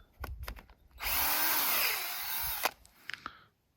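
A power drill whirs steadily for about a second and a half, drilling into a tree trunk to tap it for maple syrup, close and loud, with clicks and handling knocks before and after.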